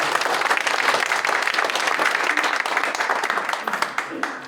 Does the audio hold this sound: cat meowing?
no